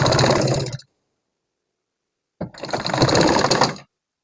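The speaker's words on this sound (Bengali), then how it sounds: "এখন ফিতাটি আমি মাঝ বরাবর বসিয়ে দিয়ে দুই কোণ মিলিয়ে আবার আরেকটা সেলাই দিয়ে নেব।" A sewing machine stitches ribbon onto a garment neckline in two bursts of fast mechanical whirring, close and loud, with a full pause between them.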